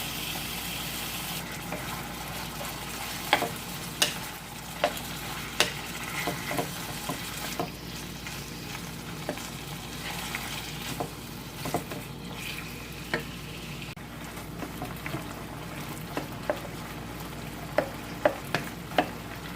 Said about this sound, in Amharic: እና ዶሮውን እያማሰልኩኝ እጠብሰዋለሁ።